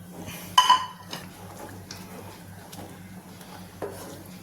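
Papaya pudding mixture with china grass is stirred in a bowl: soft, faint mixing with a few sharp clinks of a utensil against the dish, quiet in between.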